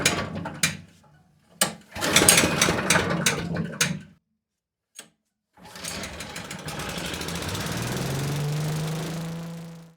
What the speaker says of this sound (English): Now I have started the motor and I let it run for a few minutes, so it is nice and warm now.